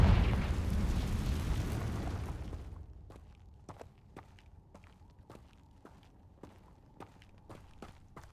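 A Confringo fire spell blasts in Hogwarts Legacy, a loud roaring burst that decays over a couple of seconds, followed by quiet scattered crackles and footsteps.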